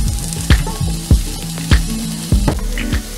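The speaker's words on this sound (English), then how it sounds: "I like to cook my onions just a little bit before I add the beef in." Chopped onions fry in a hot pan before ground beef goes in, a steady close sizzle broken by regular scraping strokes of a spoon stirring roughly every half second.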